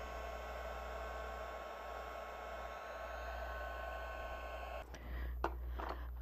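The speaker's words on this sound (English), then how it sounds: "Heat set it with your heat tool." A heat tool blows steadily to heat-set ink on gourd art, a loud continuous airy roar that cuts off near the end, followed by a few clicks and handling sounds.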